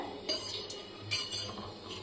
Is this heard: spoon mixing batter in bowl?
yes